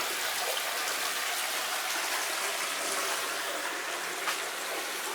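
Steady rushing water flowing continuously through the Bródnowski Canal in Warsaw, a broad even wash with faint trickling detail, no voices.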